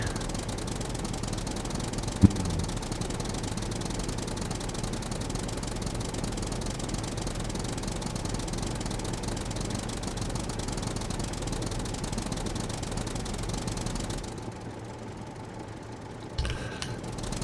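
A single-gear tractor in the survival game Scum runs with a loud, steady, rough engine drone and clattering knock that continues without letup, then drops away near the end.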